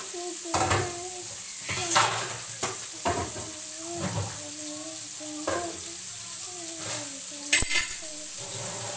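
Fish frying in a pan on a home stove gives a steady, bright sizzle, broken by several sharp clinks and scrapes of a utensil against the pan.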